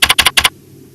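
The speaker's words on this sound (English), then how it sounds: "Press the Tab key on the keyboard." Five quick, loud, close keystrokes clatter on a computer keyboard in an uneven burst, then stop, leaving quiet room tone.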